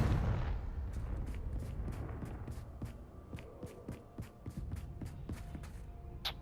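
Confringo spell in Hogwarts Legacy: an opening blast and rumble, then a long train of sharp, evenly spaced cracking pops that stays moderately loud throughout.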